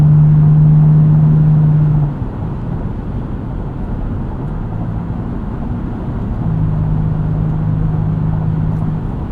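Modified 2014 Toyota FJ Cruiser engine with an aftermarket intake, a loud steady rumbling drone that holds a sustained tone, drops briefly and then swells back up, heard alone without talk.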